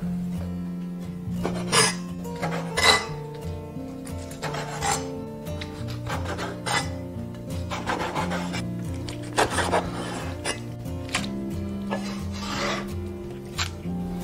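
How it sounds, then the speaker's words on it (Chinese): Octopus pieces cut into long lengths are kneaded and slapped by hand with plenty of salt, giving wet squelching rubs and sharp slapping strikes at an irregular pace, close and moderately loud over a steady low background hum. "加入多一点的食盐，然后利用双手搅打均匀。"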